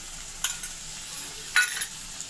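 Tomatoes being stirred with ginger-garlic paste in a frying pan while cooking fried rice, giving two short scraping stirs over a soft, steady sizzle.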